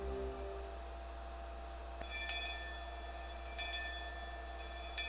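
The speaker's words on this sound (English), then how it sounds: "Just then we heard a bell far away, marking the end of our lunch break." Faraway school bell marking the end of lunch break in the Higurashi visual novel, a series of faint chiming tones with sustained ringing over a soft, steady background hum.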